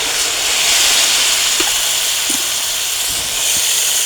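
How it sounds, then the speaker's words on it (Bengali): Curry broth for a green jackfruit curry hits a hot pan with spiced jackfruit, giving a loud, steady hissing sizzle that holds evenly throughout with no talking. "ঝোলটা দিয়ে দেবো।"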